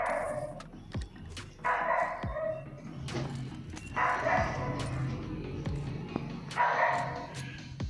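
A dog barks in repeated short bursts in the background during mobile battle royale gameplay, each burst separated by pauses, fairly faint under game sounds.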